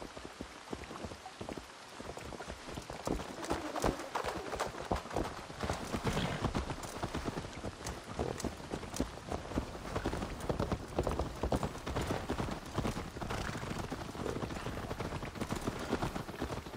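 Horse hooves clip-clop steadily while riding in a video game, a brisk, dense run of hoofbeats that stays close and fairly loud for the whole stretch, with a faint rain-like patter beneath.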